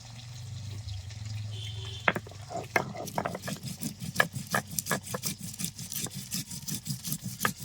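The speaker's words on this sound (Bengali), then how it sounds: "আমি এখন কিছু মশলা বেটে নেবো বেটে নিচ্ছি আদা জিরে আর ধনিয়া" Rhythmic wet grinding strokes of ginger, cumin and coriander with water on a stone, repeating steadily after an initial scrape.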